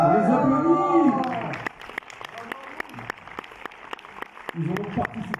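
A premiere audience gives the film crew a round of scattered, sparse claps that start after a voice fades out, with more talk returning near the end.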